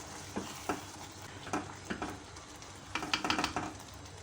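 A spoon stirs turai and chana dal curry with coriander leaves in a pan, making soft scraping strokes in irregular bursts over a low, steady sizzle, with no talking.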